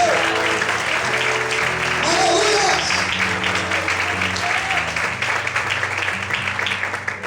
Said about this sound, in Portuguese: Você pode aplaudir a Ele, irmãos.